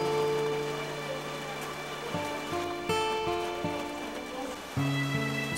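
Heavy rain pours steadily as a constant hiss, with soft tonal music playing over it throughout and no voices.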